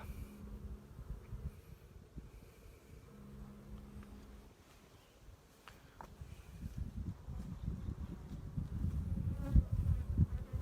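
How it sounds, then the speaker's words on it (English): Agitated honey bees in an opened hive, a continuous dense buzzing that swells louder and rougher toward the end, close around, with faint light handling noises and no talk. "I hear the noise that they're making sounds slightly more agitated than it was when we first opened the hive."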